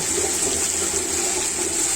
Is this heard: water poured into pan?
yes